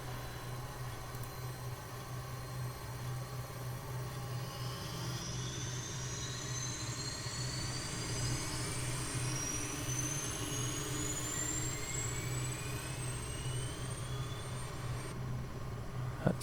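An Airbus H135 helicopter in Microsoft Flight Simulator brings its second engine up, a steady turbine drone with a whine rising slowly in pitch, heard alone at moderate level.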